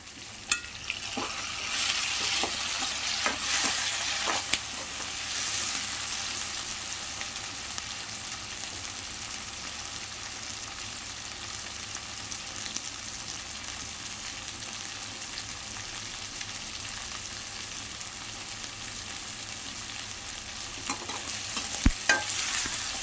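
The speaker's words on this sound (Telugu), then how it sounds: "ఇది లైట్గా వేగే కదా ఇప్పుడు టమాటా వేసుకున్నాం" Tomatoes and potatoes frying together for a potato curry, with a steady, close sizzle and occasional stirring scrapes running throughout.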